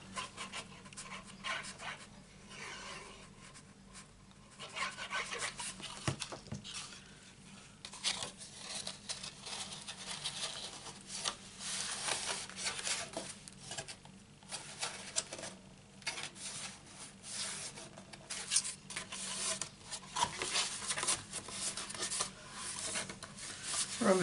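Card for a small box is rubbed down along a fold to set the crease, a steady close scraping and rasping that keeps going with uneven strokes and no talking.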